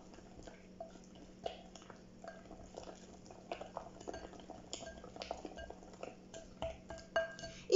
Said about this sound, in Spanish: Agrego dos huevos. Los vuelvo a mezclar.